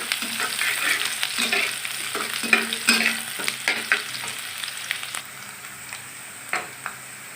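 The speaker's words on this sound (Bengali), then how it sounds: "পেঁয়াজ মরিচটা হালকা সেদ্ধ হওয়া পর্যন্ত আমি ভেজে নিই।" Onion and green chili fry in oil in a pan while a spatula scrapes and stirs in irregular strokes over a soft sizzle that gradually quiets toward the end.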